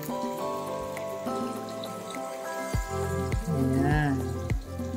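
Water is poured into a pan of frying milkfish adobo, raising a steady hiss and sizzle with bubbling, while someone talks over it.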